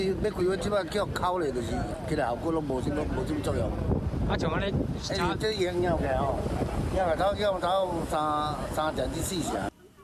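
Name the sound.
strong wind gusts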